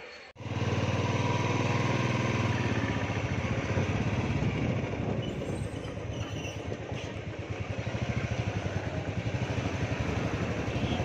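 A Royal Enfield Bullet motorcycle rides along with a steady, loud thumping engine drone close by that runs throughout without a break.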